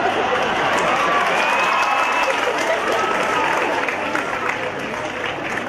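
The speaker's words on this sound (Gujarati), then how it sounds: "તાળીઓ પડી ગઈ." Audience applause in a college campus lecture hall, a dense, steady wash of clapping from a large crowd that holds for several seconds and eases slightly near the end, with no voices over it.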